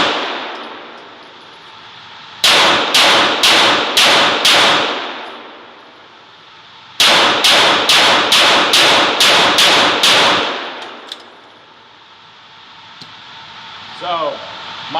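Springfield Armory Echelon pistol fired at a range in two quick strings, about five sharp reports and then about seven, each loud, close and evenly spaced, with quieter pauses between and after.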